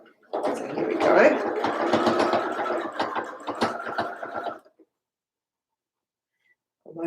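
Domestic sewing machine top stitching a sweater neckband runs steadily for about four seconds, close and clear, then stops, leaving near silence before a brief restart at the end.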